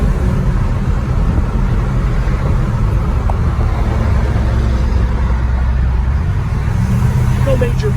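A 1959 Chevrolet Apache truck on a test drive, a loud steady low engine and road rumble heard from inside the cab, with someone talking over it.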